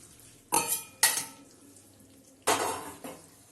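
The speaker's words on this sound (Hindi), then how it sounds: "इसको भी अच्छी तरीके से मिक्स करेंगे।" Green dal is stirred in a cooking pot, with a few sharp metallic scrapes and clanks of a spoon against the pot in short bursts over a quiet background.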